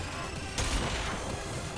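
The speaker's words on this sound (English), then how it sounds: "Wow, that was a long-range cannon shot." A long-range cannon shot fired in the futuristic racing game Wipeout Omega lands as a sudden broadband blast about halfway through, then holds as a sustained rumbling roar over steady game noise.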